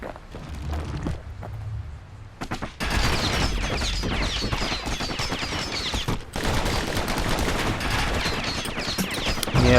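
Pincushion enemies in the video game Bastion fire rapid volleys of bullets, a dense, continuous crackle of shots after a brief quieter start, loud and sustained.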